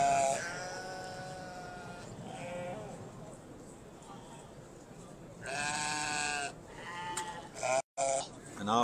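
Valais Blacknose sheep and lambs bleat at an agricultural show, with several loud nearby cries at the start and again near the end amid a general crowd murmur.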